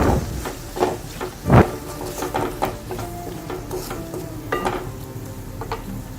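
Chopped tomato and onions being sautéed in a pan for a Kerala prawn roast masala, giving a soft sizzle with occasional spatula knocks and scrapes, one louder clunk standing out, heard close and alone.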